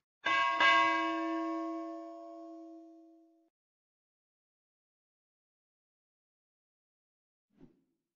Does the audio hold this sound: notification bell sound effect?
yes